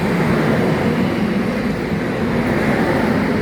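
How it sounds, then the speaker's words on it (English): A passenger train rolls into a St. Louis station with a loud, sustained rumble and rush of wheels on rail, steady throughout and close by, with no voices. "So my train is arriving and here it comes now, and it's moving so fast"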